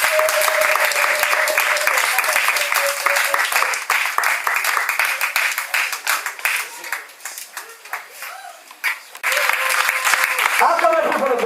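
A church congregation claps and cheers for God in loud, sustained applause that dips briefly midway and then swells again, with voices shouting over the clapping.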